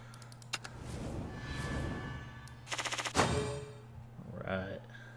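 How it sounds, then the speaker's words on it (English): Explosion sound effects from the Shadowverse digital card game during a pack-opening session, a burst of rapid crackling pops followed by a loud blast that decays, set over steady game background music. "Another explosion."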